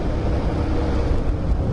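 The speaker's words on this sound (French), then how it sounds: "déjà c'est impressionnant la vitesse où il va ce quad" A Barossa SMC 250 road-legal quad bike driving fast, heard as a steady loud engine rumble mixed with heavy wind roar, with no voices.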